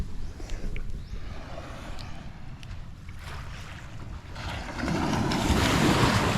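Surf washing onto a quiet sandy beach, with a steady broadband wash that swells louder toward the end as a wave breaks nearby, wind rumbling on the microphone throughout.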